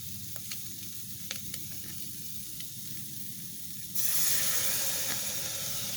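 Kielbasa sizzling in an Instant Pot inside a truck, with faint stirring clicks, then water poured in bursts into a loud, steady steam hiss that stays strong to the end.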